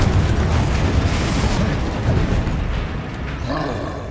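Bombarda and Confringo spell explosions in Hogwarts Legacy combat, a loud sustained roar of blasts and rumbling debris, thick and dense throughout, easing slightly toward the end.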